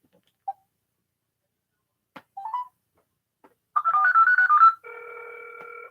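A phone call being placed: a few faint blips, a short warbling ringback burst, then a steady multi-tone ring signal, loud and close with no voices.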